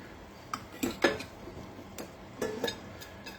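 Cooking pot and metal utensils handled in a home kitchen during prep of a mango pachadi, with a few scattered clinks and knocks, moderately close and otherwise quiet, no talking.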